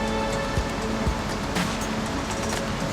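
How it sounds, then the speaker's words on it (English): Steady roar of a giant waterfall along a mountain trail, a broad continuous rush of falling water heard fairly loud and close, with no talk over it. "A giant waterfall."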